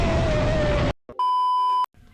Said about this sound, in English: Your package starts beeping,